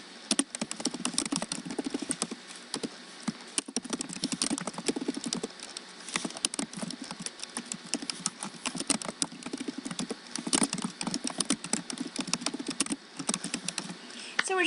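Steady typing on a computer keyboard, rapid irregular key clicks running throughout at moderate, close level, with no one speaking.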